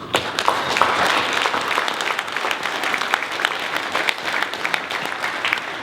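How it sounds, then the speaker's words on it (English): Sustained applause from an audience at a company interview event, dense steady clapping throughout with a few sharper individual claps standing out. "So give you guys a round of applause here for being here"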